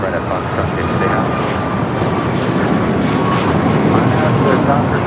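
Airliner departing Los Angeles airport, a loud steady roar of engines filling the whole stretch with no letup, close and continuous.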